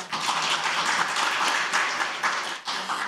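A crowd at a social welfare coalition's presidential-election committee launch ceremony claps for three co-chairs, a dense, even wash of hand claps held steady, briefly dipping near the end before picking up again.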